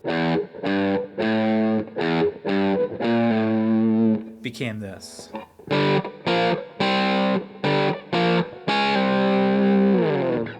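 Distorted electric guitar played through effects runs through a riff in choppy repeated chords, with a short spoken interjection midway before the riff resumes loud and steady.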